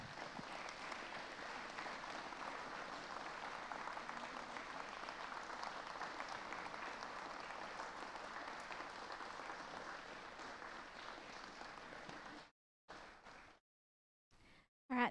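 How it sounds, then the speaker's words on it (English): A round of applause from an audience at a community gathering, steady dense clapping for about twelve seconds, then it breaks off into brief scattered bursts before ending. "let's give them all a round of applause."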